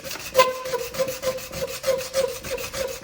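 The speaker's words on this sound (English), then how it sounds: "hold it flat, and go back and forth just like this right here. And you're going to sand it to fit." Sandpaper rasps steadily against a Glock magazine as it is worked back and forth to fit, a close, rhythmic scraping of roughly two strokes per second with no talking.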